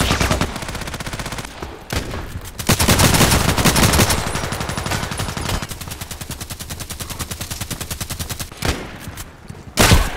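KelTec RFB rifle gunfire in the shooter game Contract Wars: loud, rapid, evenly spaced shots fired in long sustained bursts, with brief breaks between strings.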